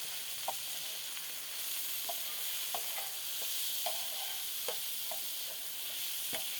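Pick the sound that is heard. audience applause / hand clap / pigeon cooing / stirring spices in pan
stirring spices in pan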